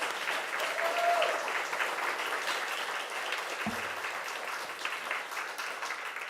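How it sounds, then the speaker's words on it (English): A conference audience at a STEM event in the State Library Victoria, Melbourne, gives the organisers a round of applause: continuous, even clapping of a sizeable crowd that slowly thins, with a brief low thump partway through. "So can we please get a round of applause for the organisers?"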